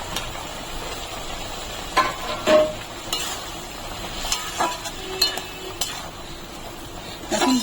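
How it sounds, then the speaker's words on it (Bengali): A metal spoon clinks and scrapes against a pan while okra is stirred into a simmering curry, with several distinct taps at irregular intervals over a soft, steady bubbling and sizzle, close and fairly clear. "এখন ভেন্ডিগুলো ভালো করে মিশিয়ে"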